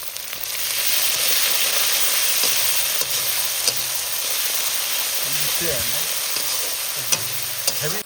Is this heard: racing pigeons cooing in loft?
no